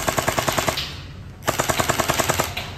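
An electric SLR gel blaster fires in two rapid full-auto bursts, loud and close, with a brief pause between them.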